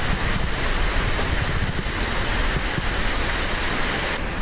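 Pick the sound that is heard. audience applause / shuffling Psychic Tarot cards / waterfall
waterfall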